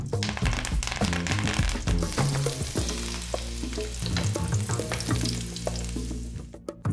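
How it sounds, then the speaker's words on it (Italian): Garlic and parsley frying in hot olive oil for spaghetti alle vongole, a bright crackling sizzle sitting under loud background music, with occasional crisp pops and a brief quiet dip near the end. "Bene, l'olio è caldo dentro l'aglio."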